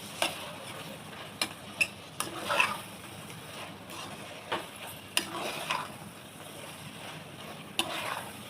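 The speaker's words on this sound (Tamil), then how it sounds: "நல்லா கிளறி விட்டுருங்க." Fresh white mushrooms are stirred in a hot pan for mushroom biryani, a soft steady sizzle broken by scattered scraping and clinking of the spoon against the pan.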